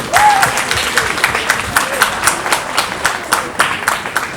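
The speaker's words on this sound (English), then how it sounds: "A big round of applause, please, for Councillor Amo Raju." An audience at an ICC Women's World Cup celebration event claps for a councillor, with full applause that starts strong and then thins into scattered individual claps.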